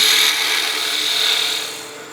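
A lathe tool cutting a cove into a spinning wooden top, a close, steady hissing scrape of the chisel on the turning wood that fades slightly toward the end of a brief pass.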